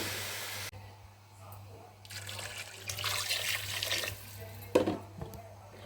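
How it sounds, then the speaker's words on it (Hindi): Water poured steadily into a cooking pot of browned mutton trotters, a rushing splash close by, with a steady low hum underneath and a brief clank near the end. "ऐड करेंगे पानी"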